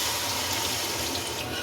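Water pours steadily from a tap into a jug while butter chicken cooks, a continuous close splashing rush with no talk over it.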